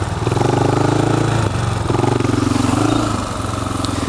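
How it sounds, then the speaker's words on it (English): A four-stroke motorcycle engine with a loose chain drops off throttle and decelerates quickly, a loud close pulsing drone that rises and falls twice before easing to a steadier lower rumble. "the engine, it decelerates quick because it's a four-stroke, and that chain's loose"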